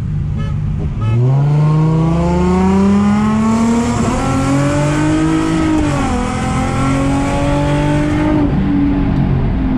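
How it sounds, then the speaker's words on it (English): A car on nitrous accelerates hard, its engine note climbing steadily through the gears with brief dips at each shift, loud and close throughout. "Jeez, the car feels so different on the nitrous."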